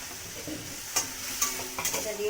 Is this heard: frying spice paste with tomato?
yes